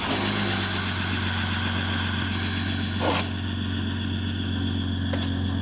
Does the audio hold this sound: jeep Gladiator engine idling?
yes